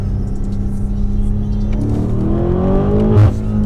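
A car engine revs hard from inside the cabin, rising in pitch through the second half and peaking near the end, with a steady mechanical whir underneath and no talk.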